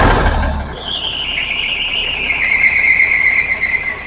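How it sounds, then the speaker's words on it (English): A high, sustained squeal from an International 9670 truck engine, wavering then settling into a steady piercing tone over a low idle rumble, loud and close with no talk. "something's squealing real bad."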